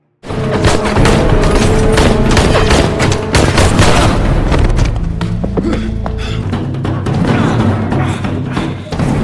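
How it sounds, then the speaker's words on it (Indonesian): Gunfire from a film shootout, with dense, loud volleys of shots and heavy booms packed closely together and continuing without pause for the whole stretch. "Tapi sayang keberadaannya justru diketahui oleh pihak anak buah Joe yang memicu aksi saling tembak."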